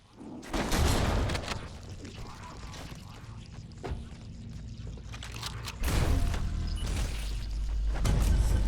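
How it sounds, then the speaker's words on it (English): An assault rifle fires in Halo: Combat Evolved, with dense rapid bursts of booming automatic fire separated by quieter stretches, the bursts returning near the end. "you really want to use the assault rifle because of its high rate of fire"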